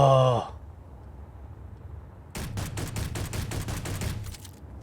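Gunfire in the video game Conflict Europa Alpha: a rapid burst of about a dozen sharp, evenly spaced shots, loud and close, following a short sung or groaning tone and a quiet gap.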